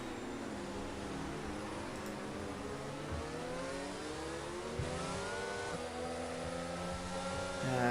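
An F1 safety car in a racing video game at the Austria or Hungary circuit, its engine droning steadily with rising and falling revving tones, moderately faint and continuous throughout.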